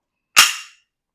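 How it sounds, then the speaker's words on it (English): Magazine dropping free from a full-size Bul Armory Axe pistol: one sharp metallic clack that rings briefly and fades within half a second, close and loud, with no talk. "let's say, drop the mag and how's the release"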